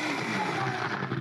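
An electric blender grinds chili with shrimp paste into sambal, a loud, steady whirring roar that holds throughout with a slight wobble near the end.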